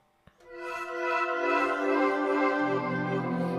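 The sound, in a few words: pad sound from sampled Gibson acoustic guitar strings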